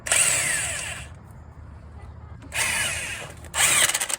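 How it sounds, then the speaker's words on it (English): Impact wrench driving a rotor puller tool during brake repair on a 2011 Dodge Durango, in three loud bursts of rapid hammering whir with quiet pauses between, no talk. "We're using the rotor puller tool with an impact wrench."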